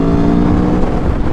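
Aprilia Tuono V4 Factory 1100 motorcycle engine, loud and close, a steady roaring drone with quick fluctuations as it downshifts during a ride.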